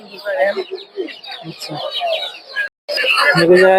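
Chickens cluck and chatter at a rural village poultry market in Narsingdi, Bangladesh, where local ducks, chickens and quail are sold; steady nearby fowl noise runs throughout beneath someone talking.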